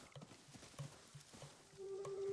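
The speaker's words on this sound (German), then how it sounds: "Nein, ich will doch kein Pferd holen!" A horse in the video game Ghost of Tsushima, faint hoof clip-clops and brief horse noises against quiet game ambience, ending in a sustained tone.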